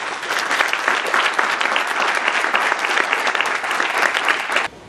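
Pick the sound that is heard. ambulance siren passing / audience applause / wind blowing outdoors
audience applause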